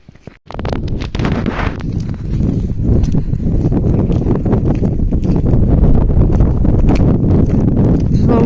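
Steady winter wind blowing and buffeting the microphone outdoors in freezing weather with light snow, a continuous low rushing roar with a few faint crunching footsteps early on.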